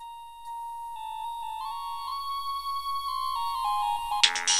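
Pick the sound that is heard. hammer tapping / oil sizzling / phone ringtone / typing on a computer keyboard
phone ringtone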